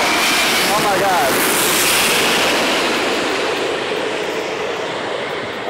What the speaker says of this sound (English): This will be the A380 coming in out of Sydney.